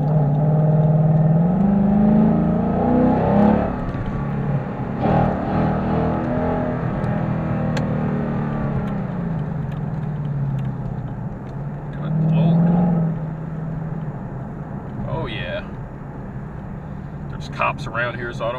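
2015-17 Ford Mustang fitted with a JLT cold air intake accelerates in sport mode, engine drone rising and falling through gear changes, heard from inside the car at moderate loudness.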